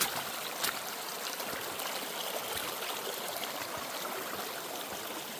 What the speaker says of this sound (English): with the final stretch, the trail is basically a waterfall